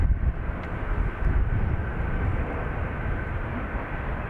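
Antonov An-124 heavy cargo jet at Dublin Airport, its engines a loud, steady low roar and rumble, continuous throughout with no talk.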